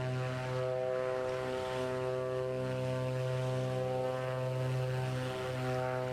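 A Beechcraft Duke twin propeller aircraft engine in a flight simulator produces a steady droning hum with strong tonal harmonics, constant and moderately loud with no voices.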